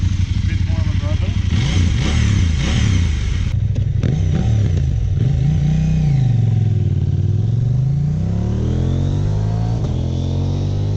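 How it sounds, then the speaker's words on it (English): A KTM 790 Adventure R V-twin with a Wings slip-on exhaust and the baffle fitted, burbling and revving up and down in loud, swelling sweeps, close by, with someone talking over the engine. "There is still a bit more of V-twin sound than before."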